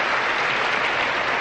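Audience applause at the Miss Universe 1986 pageant welcome, a steady dense wash of clapping hands that stays loud and even throughout, with no voices on top.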